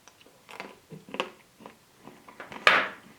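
Close-up crunching and chewing, a series of irregular crisp bites with one louder crunch near the end, no talking.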